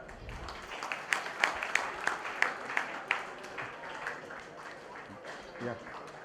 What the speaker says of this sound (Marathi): जोरदार टाळ्या.